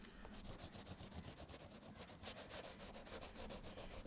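Cloth wiping the floor of an inflatable RIB boat with rib cleaner and primer, a steady close rubbing scrub with repeated strokes, continuous and fairly quiet, no voices.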